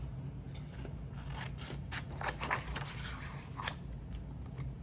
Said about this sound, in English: Use my scissors to cut those out.